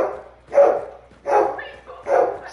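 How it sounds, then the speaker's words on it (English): Dogs in the game Hunt: Showdown bark loudly in three bursts about half a second apart, a bright yapping over a low background hum, with no voices present. "Doggies are going to be loud for a little bit."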